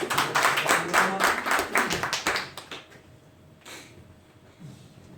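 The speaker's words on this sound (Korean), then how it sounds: "우리 박수 한번 보내주시죠" Applause from a small audience at a Korean business storytelling event, right after a group photo. Scattered, distinct hand claps rise to a brisk patter, then stop abruptly after a few seconds, leaving faint room noise and a couple of stray taps.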